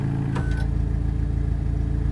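A Volkswagen Golf R with a Stage 2 downpipe exhaust, set to race mode with its exhaust flap open, idles loud and close. Its deep, steady rumble carries a brief blip at the start and no talk.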